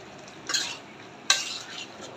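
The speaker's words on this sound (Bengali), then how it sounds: "এখন তরকারিটা নাড়াচাড়া দিয়ে দেবো" Ridge gourd curry with green chillies being stirred in a pan, two distinct scraping strokes of a utensil against the pan about a second apart over a faint steady background hiss.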